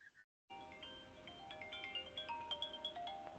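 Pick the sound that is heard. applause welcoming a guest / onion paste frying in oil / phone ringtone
phone ringtone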